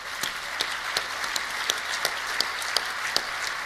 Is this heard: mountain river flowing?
no